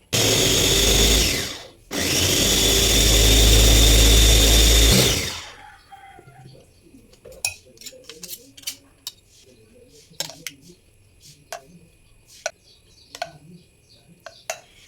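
A blender purees chayote and chicken for baby food, roaring loudly for about five seconds with a brief pause in between, then cuts off, leaving scattered clicks and faint clatter.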